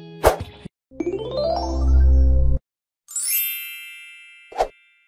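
A string of synthetic notification effects for a subscribe bell: a sharp click, a rising sweeping tone, a bright shimmering chime, then a final knock. The sounds are loud, crisp and separated by short silences, with no talking.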